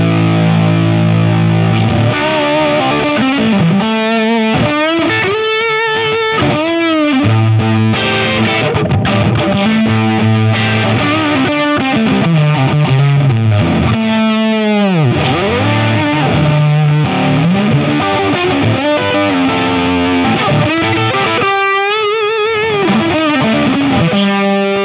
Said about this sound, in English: Have a listen to the fuzz.